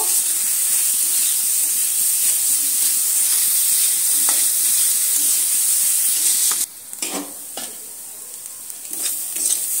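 Peas, carrot and beetroot fry with salt and a green chili in a pan, giving a steady, loud, close sizzle. Midway the hiss eases and a few sharp stirring scrapes break through.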